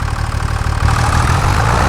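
A snowblower engine idles on a dairy farm with a loud, close, steady rumble and a rapid low pulsing chug that grows slightly louder partway through. No voices are heard.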